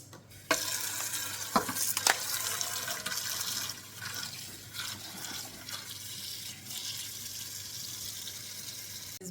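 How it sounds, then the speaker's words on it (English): Pea sprouts rinsed under a running kitchen tap, a steady close splash of water with brief louder gushes as the greens are stirred and handled, no talking. "First need to wash it nicely."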